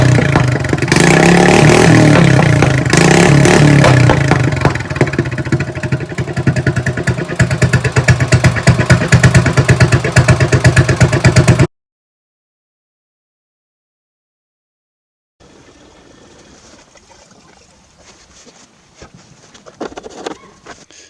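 A mud mower fitted with a swapped carburetor from a red Craftsman runs loud and steady for about twelve seconds, then cuts out to silence before a fainter engine-like rumble returns.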